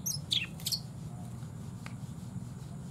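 A caged cendet songbird being readied for a bird-song contest gives a few quick, high chirps at the start, then falls quiet over a steady low background hum.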